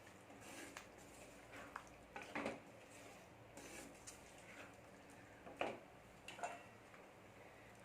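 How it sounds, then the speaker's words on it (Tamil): Boiled squid stirred into masala in a cooking pan with a spoon, faint scrapes and clinks of utensil against metal coming in irregular bursts over quiet kitchen background. "வேக வச்சுருந்த கனவா மீனை இதில் போட்டுடலாம் போட்டு நல்லா கிளறி விட்டுருங்க"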